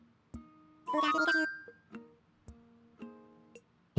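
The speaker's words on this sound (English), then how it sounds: "Hold the phone, someone's calling!" Phone call alert in Animal Crossing: New Horizons, a bright chiming jingle with a rising trill followed by several short tonal dings, clear and isolated against silence.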